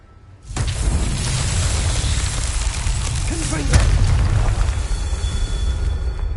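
A Bombarda spell blast in a video game lets out a sudden loud boom, then a sustained roaring rumble with a second swell partway through. A brief voice sounds in the middle.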